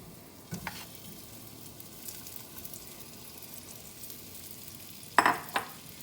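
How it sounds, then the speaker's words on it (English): Beef stew meat dropped into avocado oil in a pan on high heat, giving a steady soft sizzle with a few louder hissing bursts as pieces hit the oil, near and without talk. "I am just gonna take my meat and we're just gonna drop this in."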